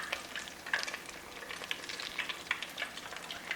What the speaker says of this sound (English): I'm making fried grits